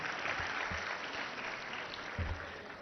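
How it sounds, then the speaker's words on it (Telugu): A crowd at a political speech about education claps for Dr B. R. Ambedkar, heard faintly and distantly under a steady hiss, with a few low thumps. "డాక్టర్ బిఆర్ అంబేద్కర్ గారికి మనం అందరం ఒకసారి గట్టిగా చప్పట్లు కొట్టాలని కోరుకుంటున్నాం"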